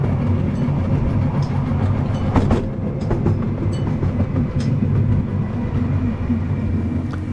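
A train on the Diamond Valley Railway runs steadily near a triangular junction, with a constant rolling rumble, rhythmic wheel clicks over the rails and brief metallic squeals and clanks at a few moments.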